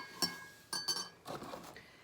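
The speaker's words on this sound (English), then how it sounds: "I add my water, and then I just stir it around to kind of get the honey stirred up" A spoon clinks against the inside of a glass while stirring honey into water, giving a few sharp, bright taps spaced unevenly, followed by softer scraping clinks, close and fairly quiet.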